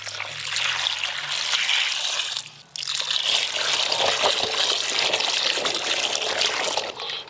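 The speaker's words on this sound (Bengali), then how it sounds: "এই জলপাইগুলোকে এবার জল দিয়ে পরিষ্কার করে ধুয়ে নেব" Olives for a pickle being washed clean under running water, a steady trickling and splashing stream that carries on close by for the whole stretch, broken only by a brief dip in the flow partway through.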